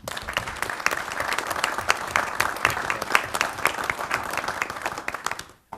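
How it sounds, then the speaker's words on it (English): Applause for a colonel at a Diversion Authority board meeting: a room of people clapping steadily for several seconds, fairly close and dense, ending abruptly. "I think you deserve a round of applause."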